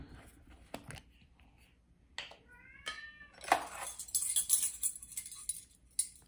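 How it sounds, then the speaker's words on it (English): A house cat meows several times in a home kitchen where tomato paste and olive oil are being prepared, with clear harmonic cries up close alongside light clinks and kitchen clatter. "that meowing, is the cat"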